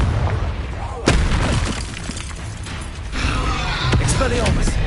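A Confringo blasting spell in a Harry Potter video game bursts with a sharp boom, followed by further rumbling blasts and thuds in a dense, loud game mix with voices shouting spell names.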